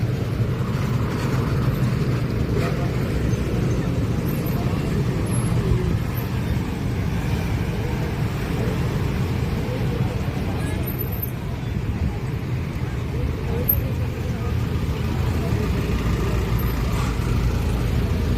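Steady road traffic in a congested bottleneck area of Davao, a continuous low rumble of cars, buses and trucks passing nearby with no break, faint voices mixed into the background.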